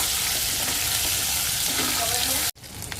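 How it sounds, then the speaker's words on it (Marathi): Green chillies and curry leaves sizzle loudly in hot oil with asafoetida, a dense, close frying hiss with stirring, which cuts off abruptly near the end before fainter sizzling resumes. "हिंग टाकलं आहे, हिरवी तिखट मिरची, कढीपत्ता 3 काड्या, चांगलं परतून घ्यायचं."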